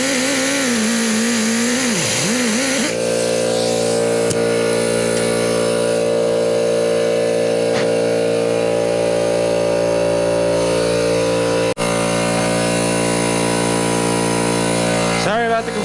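Air compressor running in a workshop during work on a 1995 Evo Softail motorcycle, a loud steady mechanical drone with strong harmonic hum that holds throughout, starting after a few seconds of speech.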